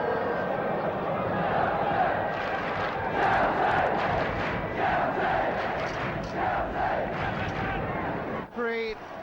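A 50,000-strong football crowd at a 1969–70 Chelsea v Everton First Division match, a broad distant roar and murmur swelling and easing with faint shouts rising through, the crowd noise filling the whole stretch.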